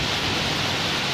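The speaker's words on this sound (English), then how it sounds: "Look at the pleasant rain." Continuous rain pouring over the city of Chandigarh, an unbroken hissing patter that stays level throughout, close and moderate in volume, with no speech over it.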